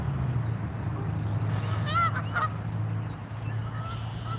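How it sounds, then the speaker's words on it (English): Geese honk across a lake, a short burst of distant calls rising over steady low outdoor rumble and a faint voice, then fading to scattered quieter honks. "Geese are going crazy again, guys."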